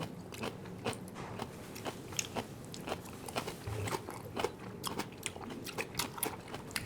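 Kimchi being bitten and chewed up close, a quiet run of wet crunches repeating in an uneven rhythm, with no talk over it.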